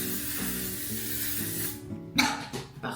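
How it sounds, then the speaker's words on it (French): A L'Oréal makeup setting spray mists out in one short, close burst near the end, following a stretch of soft, steady background noise. "si vous voulez investir dans un spray fixateur, franchement c'est celui-ci"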